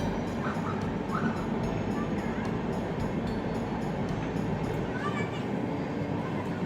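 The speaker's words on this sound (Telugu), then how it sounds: "ట్రైన్ సౌండ్ కూడా వినిపిస్తుందండి." A train passing close to a house in the evening makes a steady, loud rumbling roar that fills the whole stretch, with a dog barking faintly in the background.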